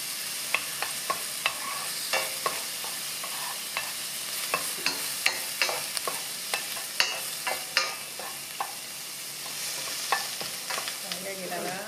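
Garlic and green onion stir-frying in a hot pan while acorn jelly stir-fry is being made, with steady sizzling and repeated clinks and scrapes of a utensil stirring, close and alone with no talk.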